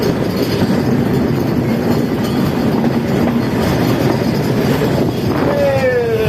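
The 748 Down Simanta Express at Saidpur, hauled by American Giant locomotive 6635, passes close by with a loud, continuous rumble and rhythmic wheel clatter, and wheel squeal rises near the end.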